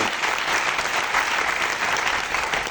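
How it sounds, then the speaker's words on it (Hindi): A seated audience at a business presentation breaks into loud, sustained applause, a dense, steady crackle of many hands clapping together with no speech over it. "एक बार जोरदार ताली तो बनती होगी"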